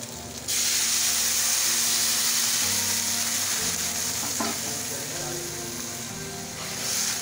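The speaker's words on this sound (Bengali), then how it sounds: "এখন এই যে গরম জলটা আমি এখন দিয়ে দিই।" Hot water is poured into frying raw banana curry in a pan, setting off a sudden loud hiss and sizzle that holds steady, with a brief clatter midway and someone speaking over it.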